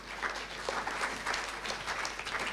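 Steady applause from an audience at a children's naat recitation competition, welcoming a young reciter to the stage; dense, continuous clapping with no voices over it.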